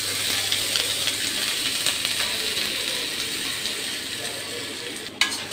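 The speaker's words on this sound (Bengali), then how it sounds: "পেঁয়াজটা একটু ভাজার জন্য দিলাম, ভাজা ভাজা হোক।" Onions frying in hot oil in a home kitchen pan, a steady, close broadband sizzle running throughout with occasional stirring clicks and a sharp scrape near the end, no voices.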